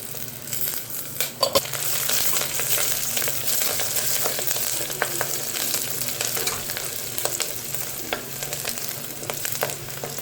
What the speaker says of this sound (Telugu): సో అవి ఫ్రై అయిపోయాయి ఫ్రెండ్స్.